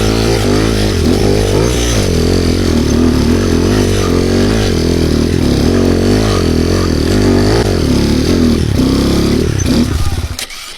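An enduro motorcycle engine revs hard on a slope, loud and close, its pitch rising and falling through repeated throttle bursts before cutting off abruptly at the end.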